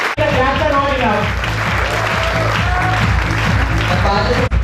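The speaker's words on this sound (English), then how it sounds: "The claps are not enough." An audience at a student design competition award ceremony claps for a prize-winning team, a loud, steady wash of applause filling the hall throughout, with a voice over it.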